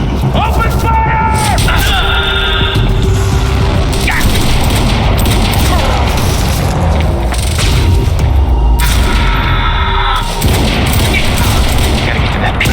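Gunfire in Quantum Break, a sustained barrage of shots and booming impacts running loud and dense from start to end, with a voice calling out over the continuous firefight.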